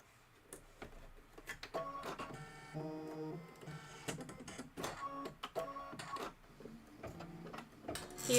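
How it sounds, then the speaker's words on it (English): A sewing machine satin stitches with cashmere thread, running in rapid mechanical bursts of needle clatter with short pauses between runs, fairly quiet and close, with no talking. "now we're going to satin stitch, and I'm going to put my cashmere thread back in"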